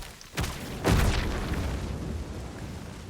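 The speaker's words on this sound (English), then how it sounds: "Let's try blowing it up." Explosion in the video game Dragon's Dogma II: two booming blasts in quick succession, the second heavier and rumbling, then a long fading roar of debris and echo.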